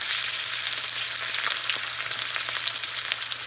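Ginger and leaves frying with pork ribs in a pan for braised soy sauce ribs, a steady, loud, close sizzle that runs unbroken throughout with no talking.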